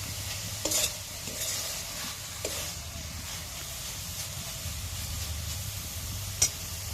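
Cooked leafy greens sizzle gently in a pan, ready for fried bitter gourd to be mixed in, with a soft steady hiss broken by a few stirring scrapes and one sharp utensil tap near the end.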